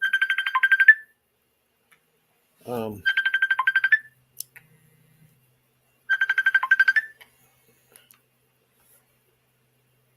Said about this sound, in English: I had a phone call come in